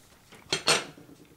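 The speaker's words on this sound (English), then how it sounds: "I'm just going to slice my tape open" Tape being slit open with a blade on the end of a bundle of strands: two quick, sharp rasping cuts close by, with quiet surroundings before and after and no speech.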